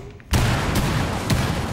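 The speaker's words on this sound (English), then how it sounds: "There's someone over here shooting." Gunfire in the tactical shooter Rainbow Six Siege, a loud sudden burst that sets off a dense, sustained rattle of shots with a couple of sharper reports, close and unbroken.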